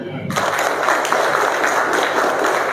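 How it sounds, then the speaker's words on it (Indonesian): A crowd breaks into sustained applause, a dense wash of clapping hands that starts abruptly and continues steadily. "Tepuk tangan dulu"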